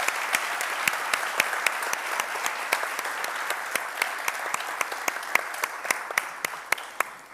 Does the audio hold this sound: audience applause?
yes